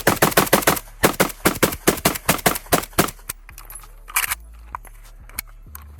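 Rapid bursts of gunfire from a PSA Krink AK-pattern pistol, loud sharp reports in quick strings with brief pauses, then a few scattered single shots.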